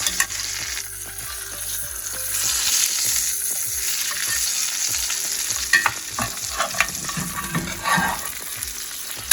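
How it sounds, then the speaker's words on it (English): Steak searing in a pan while being basted with butter, rosemary and thyme: a loud, steady close-up sizzle with spoon scrapes and splashy crackles over it, and no talking. "So I'm gonna flip it to the other side to baste it also."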